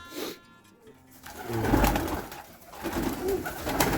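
Pigeons cooing inside a pigeon loft, soft repeated throaty coos rising and falling at a modest distance, fairly quiet with no talk over them.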